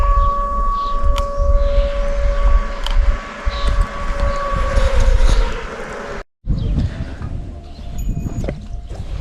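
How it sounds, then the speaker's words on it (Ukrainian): An air raid siren sounds during an alert in Ukraine, heard from a fishing spot on a riverbank: a sustained, steady wail held over a dense outdoor rumble, with one brief dropout near the end. "У нас повітряна тривога."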